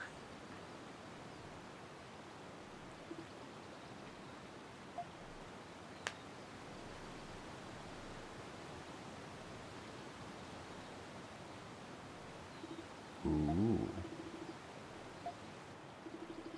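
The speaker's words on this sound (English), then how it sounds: "Cave behind a waterfall." A steady broadband rush of a waterfall beside a hidden cave in Ys VIII: Lacrimosa of Dana, continuous and even throughout, with a brief voiced exclamation near the end.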